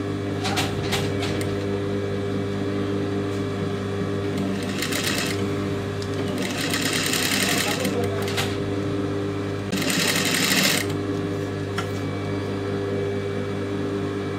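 Sewing machine stitching lace onto the neckline of a blouse, a steady mechanical whir with rapid needle clatter rising in several bursts of faster stitching, close up with no speech.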